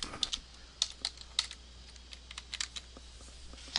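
Fingers tapping out a caption on a computer keyboard, a light, irregular run of close clicking keystrokes with no voices.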